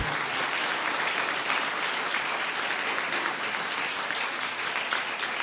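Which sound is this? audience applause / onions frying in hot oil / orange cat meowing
audience applause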